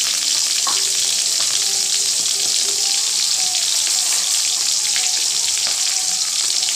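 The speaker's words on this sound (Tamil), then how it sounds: "இதை மூணு மட்டும் நம்ம நல்லா வதக்கிக்கலாம்." Tomatoes and coconut pieces sauté in a hot pan for egg masala, giving a steady close sizzle and crackle with faint stirring and no talk throughout.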